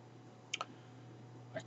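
Quiet computer mouse clicks, a quick double click followed by a single click, crisp and close over a faint steady hum.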